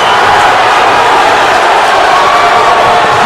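Crowd cheering at a high school hockey game in an arena, a loud sustained roar of many voices filling the rink without a break.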